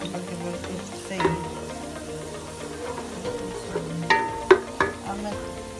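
Onions fry in a pan for keema stew with a continuous soft sizzle, broken by a few sharp clinks and scrapes of stirring, close up and moderately quiet.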